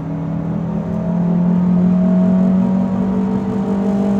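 A RAM 700 pickup accelerates hard through the gears, its engine a loud, close, continuous drone whose pitch climbs steadily as it pulls, heard from inside the cab with no talking.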